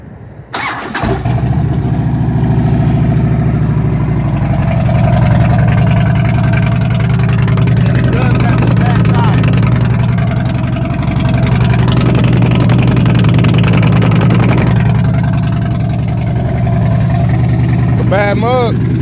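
A 2009 Harley-Davidson Street Glide motorcycle with hard bags and a 6-speed idles steadily up close in a deep, continuous rumble, with someone talking over it throughout.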